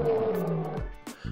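A lion's roar, loud and close, one deep drawn-out call that trails off, followed by a brief second grunt.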